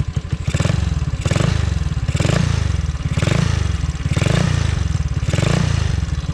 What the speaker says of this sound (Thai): เดี๋ยวผมจะลองบิดขึ้นให้ดูนะครับ